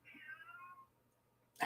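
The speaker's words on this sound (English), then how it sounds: "my cat is going crazy" A pet cat gives one drawn-out, falling meow that lasts under a second, close and fairly loud in a quiet room, followed by a sharp brief noise at the end.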